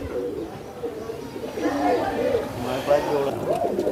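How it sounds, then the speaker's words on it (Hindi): Pigeons coo softly in a loft setup, their low calls rising midway through under continuous conversation and background chatter. "कबूतर भी देख लें क्या लाजवाब कबूतर डले डले हैं भाई"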